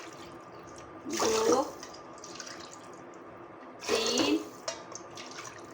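Water is poured by the cup into a pot for semolina halwa in two separate splashing bursts a few seconds apart, with a woman counting quietly between them.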